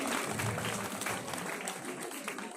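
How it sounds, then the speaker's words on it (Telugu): Applause from a crowd at a school student felicitation event, steady clapping at moderate volume that continues throughout without a break. "చప్పట్లతో అభినందించాలండి"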